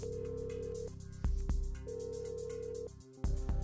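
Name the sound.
telephone ringing from a phone call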